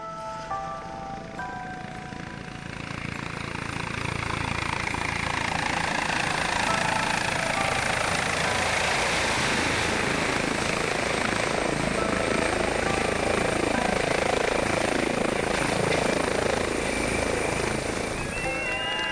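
A medical air ambulance helicopter flies overhead with a loud, steady rotor whine and chop. It swells in over the first few seconds and holds close and strong, with no talk.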